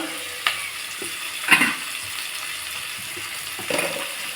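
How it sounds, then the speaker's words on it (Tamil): Curry ingredients sautéing on a low flame, a soft continuous sizzle with a few brief clatters of a spoon against the pan. "இப்போ இதில் சிம்மில் வச்சு வதங்கட்டும்"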